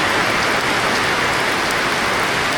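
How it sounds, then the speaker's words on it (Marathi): Heavy evening rain shower in the Konkan countryside, a dense, steady hiss of downpour close by, continuous and loud without any voices. "पावसाची आहे ना मोठीशी सर आले."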